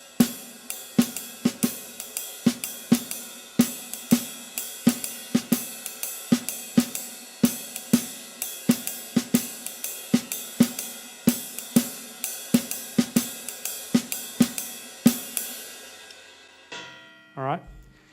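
Jazz drum beat played on a drum kit with ride cymbal over both bars, a steady swinging pattern of evenly spaced bright cymbal strikes with regular accents, close and alone, ending with a short rattle.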